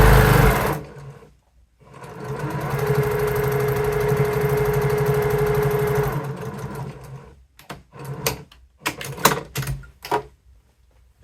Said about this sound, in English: Then I'm just going to finish sewing the binding to the hem.